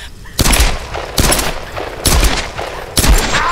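Gunfire in the Tomb Raider video game: four loud, sharp shots ring out at roughly even intervals, each with a short, noisy tail, close and dominant.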